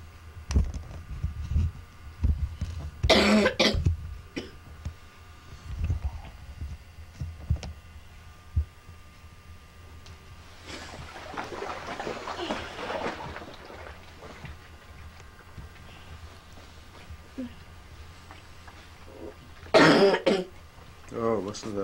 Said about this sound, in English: listen to that cough.